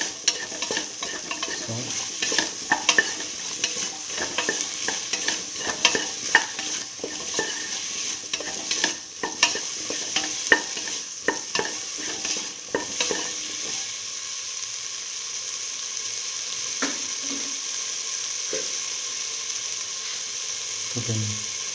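Okra and potato stew with mint frying in a pan, stirred steadily with a spoon that scrapes and clatters over a constant sizzle for about twenty seconds; a voice briefly speaks.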